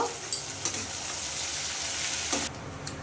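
Sliced snake gourd (chichinga) with turmeric and salt fries in a hot pan, giving a steady close sizzle with a few brief stirring clicks and no talking.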